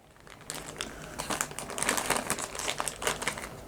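A paper user manual is pulled out of a Boat PartyPal 60 Bluetooth speaker box, giving close rustling and crinkling of paper and packaging in quick bursts that build louder through the middle, with no talk.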